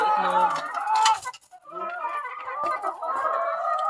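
Backyard chickens cluck loudly and close by in busy overlapping bursts, with a brief pause partway through, then more clucking.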